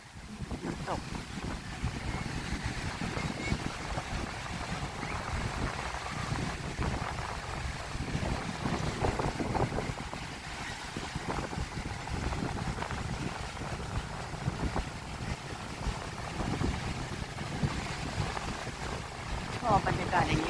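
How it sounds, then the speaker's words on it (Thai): Strong cool wind blows by the sea at Bang Saen, Chonburi, in the evening, a steady rushing roar buffeting the microphone with waves washing beneath, continuous throughout. "ลมเย็นแล้วดูคลื่นเด็ด"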